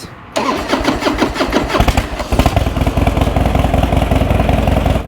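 A Harley-Davidson Dyna Wide Glide motorcycle cranks and fires up on a hot day, then settles into a loud, close, loping rumble and keeps running.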